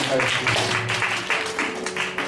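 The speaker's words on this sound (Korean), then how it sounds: "처음으로 박수 드리겠습니다." A church congregation claps for first-time visitors at a worship service, a short burst of indoor applause that swells and fades in waves.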